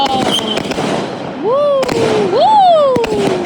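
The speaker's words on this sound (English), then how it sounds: "We're lighting fireworks now." Fireworks set off outdoors on a cold night whistle upward in rising and falling shrieks, with sharp crackling pops in between, while people nearby cheer and shout over them.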